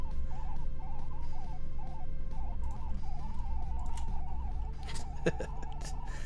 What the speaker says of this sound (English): It's getting louder. It's like birds.